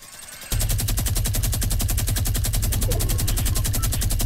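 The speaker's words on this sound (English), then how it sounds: "So when he's reloading, I come out with the minigun." A Fortnite minigun opens up after a short pause and fires a long, rapid, steady stream of shots, loud and close, with no talk.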